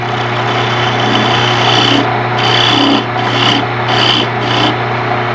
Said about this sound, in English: Now I need to cut my tenon. I'll come in with my parting tool.